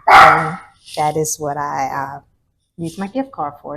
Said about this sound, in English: Sorry for the noise that my dog is making